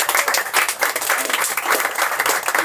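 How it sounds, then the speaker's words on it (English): A short burst of audience applause for panelists at a Movember open-dialogue event, with close, dense clapping from a modest crowd and a fluttering, uneven rhythm throughout. "if we can just give them a big round of applause"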